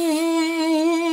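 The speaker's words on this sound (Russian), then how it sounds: "Это звук атмосферной бензопилы" An atmospheric chainsaw effect from the Undertale fan game Oceantale Halloween Edition gives a brief, steady, buzzing tonal drone, loud and alone.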